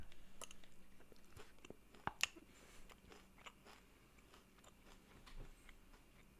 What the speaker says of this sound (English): you are not supposed to chew the cigarette.